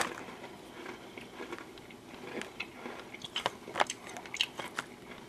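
Crunchy bites and chewing of Cookie Butter flavored Oreo cookies, close and fairly quiet, with a run of sharp crunches growing denser toward the end; no talking.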